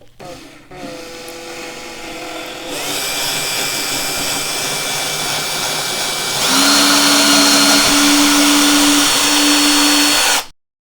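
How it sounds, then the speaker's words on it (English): Power drill boring a small hole in an N gauge model railway baseboard, close and loud, whirring up to a steady whine that rises in pitch and strain partway through before cutting off abruptly. "Get the drill and then just make a small hole here."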